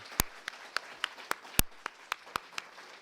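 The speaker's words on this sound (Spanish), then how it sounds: "merece un aplauso muy grande" Applause at a lecture honouring an ecology prize winner, heard as sparse, fairly quiet claps in an even rhythm of roughly four per second, each one sharp and separate.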